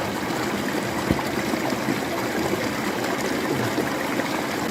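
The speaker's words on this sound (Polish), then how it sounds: "znaleźć miejsce, gdzie rzeka rwie w dół" A mountain river in the English hills rushes downhill in a steady, dense roar of flowing water, close and loud with no break or voices.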